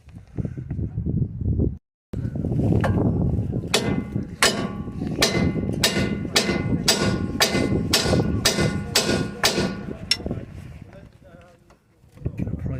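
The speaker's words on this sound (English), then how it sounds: "if we just give this some bangs with a hammer, it should just break apart" A hammer bangs on a ball joint on a van's lower suspension arm about a dozen times in a quick, regular series of loud sharp clanks, with someone talking around the strikes.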